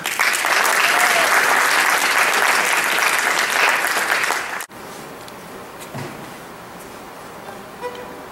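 Audience at a state fiddle championship in Arkansas applauds a fiddle contestant, loud sustained clapping that cuts off abruptly partway through, leaving only quiet room noise afterward.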